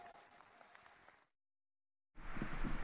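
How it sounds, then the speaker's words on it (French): An audience claps after a compound bow final at the French indoor archery championship, faint at first, then a brief silence before louder clapping returns close by. "on peut les applaudir bien fort"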